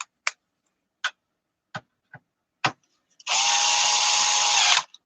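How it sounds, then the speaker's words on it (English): Power drill clutch clicking while driving screws into a Macintosh Plus case: several sharp, spaced clicks close up, followed by a sustained whirring burst of the drill motor. "That click you hear is the clutch."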